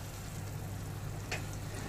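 Chilli potatoes frying over a high gas flame in a hot pan, with a little water added, give a steady, even sizzle and hiss throughout and a brief brighter splash of spitting partway through, with no voices.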